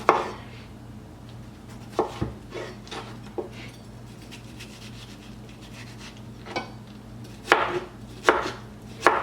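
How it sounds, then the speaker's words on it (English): Knife chopping cucumber, seeds left in, into tiny squares for shrimp ceviche: scattered sharp taps on a board, some in quick pairs and clusters, moderately close with quiet gaps between. "So we are done chopping up our cucumber."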